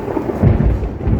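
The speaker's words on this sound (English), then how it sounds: "That thunder was really loud." A deep rolling rumble of thunder, loud and close, with a soft hiss of rain underneath.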